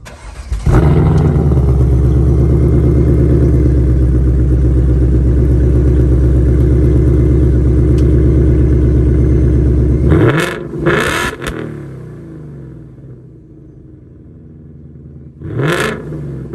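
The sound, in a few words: Ford Mustang Mach 1 engine revving with X-pipe exhaust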